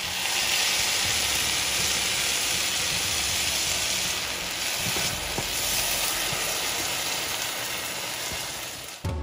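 Loud, steady sizzling hiss of blended tomato poured into a hot pan for shallot tomato chutney, continuous and close, with faint clinks and bubbling underneath.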